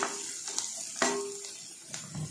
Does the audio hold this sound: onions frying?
yes